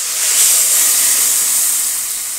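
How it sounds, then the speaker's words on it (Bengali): Water poured into a hot pan of crab curry in a village kitchen makes a loud, close sizzling hiss of steam that swells and then slowly fades. "কষা হয়ে গেছে, এবার জলটা দিয়ে দেবো।"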